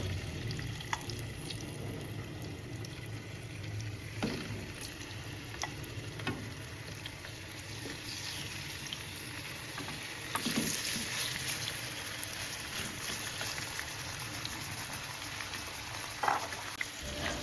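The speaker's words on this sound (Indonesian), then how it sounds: "Jika minyaknya sudah agak panas, bisa masukkan ayam yang sudah dimarinasi." Marinated chicken fries in hot vegetable oil over low to medium heat, giving a steady, soft crackling sizzle throughout with occasional faint pops and clinks, without talking.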